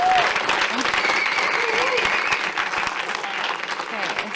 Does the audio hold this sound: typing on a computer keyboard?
no